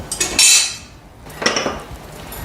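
Clanking of a utensil against a pan while turning a peas masala chapati, two distinct metallic clatters separated by a brief pause, close by.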